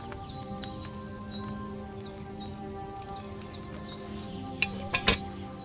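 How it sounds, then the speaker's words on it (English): Wine boiling in a cauldron over a fire in Kingdom Come Deliverance 2, a soft continuous bubbling and sizzling hiss under faint background tones, with a few sharper clicks near the end. "Hear that bubbling? It's boiling."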